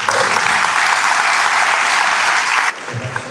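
Sustained applause from a banquet audience at a teachers' hall of fame induction ceremony, dense and loud for nearly three seconds before cutting off abruptly.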